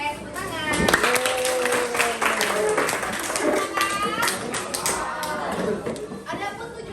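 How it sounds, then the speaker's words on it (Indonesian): Students in a school classroom clap irregularly and lightly, mixed with overlapping chatter and voices throughout, the clapping fairly close but partly masked by talk. "Oke, tepuk tangan"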